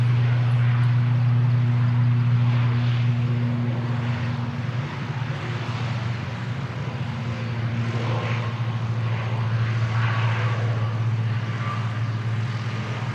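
An airliner on flight NZ5178 departs Christchurch Airport bound for Palmerston North, a steady engine drone, loud and continuous, fading slightly midway before swelling again, with no talk.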